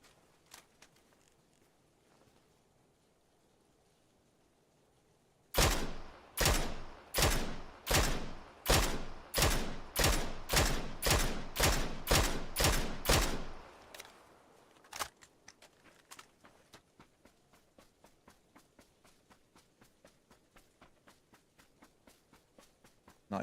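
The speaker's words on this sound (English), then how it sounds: "I think I'm hearing a suppressor southeast." Rapid burst of about a dozen sharp, evenly spaced suppressed gunshots in an online battle royale shooter, loud and close, followed by softer scattered clicks and movement noise.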